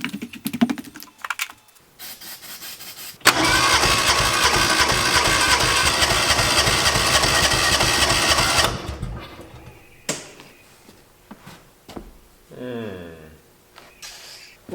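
Kawasaki Mule 600 utility vehicle engine cranking after a shot of starter fluid, a loud steady mechanical chugging that runs several seconds without catching, then stops and leaves quieter knocks and talk.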